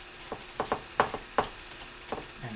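Screws are driven into a PC case during a build, a quick series of close, crisp ratcheting clicks from the screwdriver arriving in uneven bursts, with no talk.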